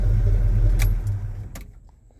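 A 1984 Chevy C10 truck engine idling with a steady low rumble that dies away as it is switched off, with a brief jangle of keys near the end.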